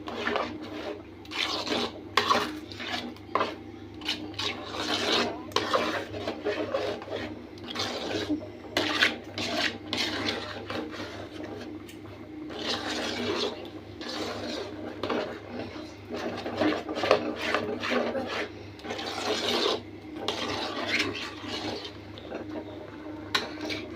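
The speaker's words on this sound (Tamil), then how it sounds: "நம்ம சர்க்கரை போட்டு இன்னும் கொஞ்சம் நல்லா அப்படியே கிண்டிகிட்டே இருந்தீங்கன்னா உங்களுக்கு அந்த கன்சிஸ்டன்சி வந்துடும்." Rava kesari is stirred with sugar in a pan, producing a continuous close scraping and rubbing of a spoon against the pan in uneven strokes for a long stretch, without talk.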